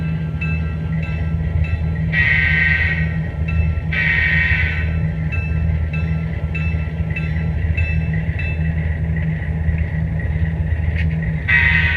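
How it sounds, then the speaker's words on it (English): A continuous low rumble of a model train running along its track on a model railroad layout, steady throughout, with a few brighter hissing or squealing bursts from the wheels. "Every time the train comes around, it blocks off Main Street."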